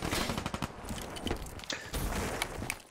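Rapid gunfire from a Man o' War rifle in the video game Black Ops 3, loud bursts of shots packed closely together with game sound effects in the background.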